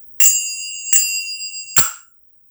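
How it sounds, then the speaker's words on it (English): Finger cymbals (zills) struck three times at an even pace, each a bright metallic tick with a short shimmering ring, close and alone. "I can still get that nice tick sound."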